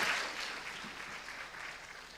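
Audience applauding for a prize winner at a business services awards ceremony in Romania, a continuous wash of clapping from a sizable crowd in a large room, fairly even and somewhat distant.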